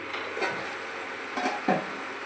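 Gourd and bori curry being stirred in a pan, a low sizzle under a few scraping, knocking strokes of the spoon against the pan, heard close and without voices.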